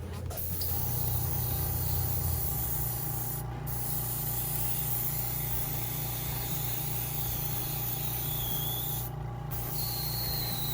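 Steady hissing spray of spray paint with a continuous low rumble underneath, running almost the whole time with two brief breaks, painting a plastic model kit.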